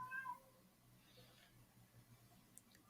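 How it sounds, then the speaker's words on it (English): A house cat meows faintly in the background during a podcast recording, a short mid-pitched call near the start followed by quieter room noise. "Is that your cat or mine?"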